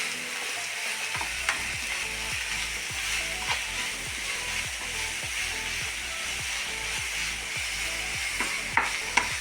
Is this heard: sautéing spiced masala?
yes